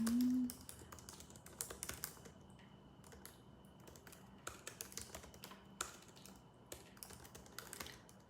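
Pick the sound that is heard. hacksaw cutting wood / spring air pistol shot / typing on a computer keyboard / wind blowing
typing on a computer keyboard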